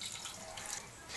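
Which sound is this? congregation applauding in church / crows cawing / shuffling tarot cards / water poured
water poured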